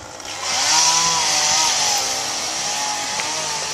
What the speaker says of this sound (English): You see they're trimming the trees as we speak.